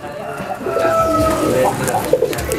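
A racing pigeon coos softly at close range in short murmuring phrases while a person talks over it throughout.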